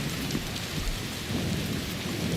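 Rain and thunder in the video game Death Stranding 2, a dense steady downpour with deep rolling thunder rumbling underneath, loud and continuous with no speech.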